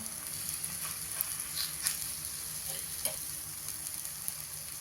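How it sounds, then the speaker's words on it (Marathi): Ragi and sweet corn thalipeeth frying in oil on a pan over medium heat, a steady close sizzle with light crackles and a few soft pops throughout, no talking. "मीडियम वरतीच आपल्याला हे छान खमंग खरपूस भाजून घ्यायचं आहे थालीपीठ"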